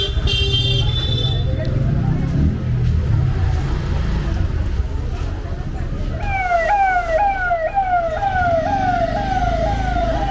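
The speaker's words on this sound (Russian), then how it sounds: "В пробке же не хочет стоять полицейский, а у него есть сирена, чтобы проехать." An Indian police car siren wails through a traffic jam, its rising and falling sweeps starting partway through and repeating loudly over steady engine and road noise, with voices talking underneath.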